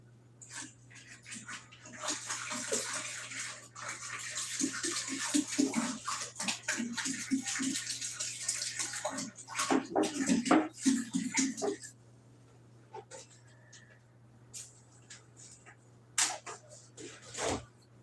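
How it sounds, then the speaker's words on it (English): Distilled water pours from gallon jugs into a large container for mead, a steady broadband gush with sloshing that rises and falls over several seconds, then trails off into a few quieter splashes and a final burst. "Now let's pour in all this water."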